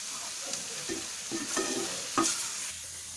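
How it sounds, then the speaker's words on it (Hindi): Mashed tomatoes frying over a high flame while being stirred, a soft continuous sizzle with a few louder scraping strokes of a spoon against the pan. "अब हम फ्लेम को थोड़ा सा हाई कर देंगे। हाई करने के बाद में हम थोड़ा इसको भून लेंगे।"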